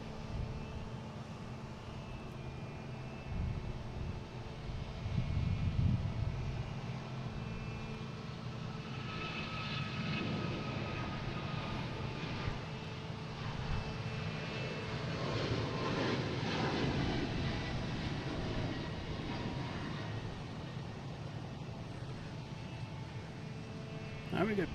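American Airlines airliner bound for Phoenix at Boston Logan, a steady distant jet engine roar that swells slightly mid-clip, with talk over it.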